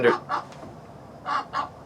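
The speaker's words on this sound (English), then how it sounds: "There's a duck sitting on like this part right here, but on the other porch right there" A duck sitting on a porch gives four short, nasal honking calls in two pairs, fairly close and clear, with no talking over them.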